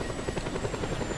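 A helicopter in the video game Just Cause 2 thrums with a steady, close rotor chop and an engine whine, loud and alone.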